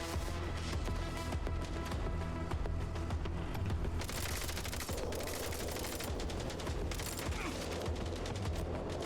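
SMG fire in the video game Mindseye comes as dense, continuous bursts that crackle over a busy, loud game mix, with no talking.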